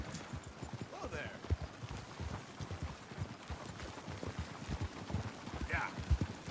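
Horse hooves clip-clop steadily at a trotting rhythm in Red Dead Redemption 2, with voices speaking over the hoofbeats and a brief whinny-like sound.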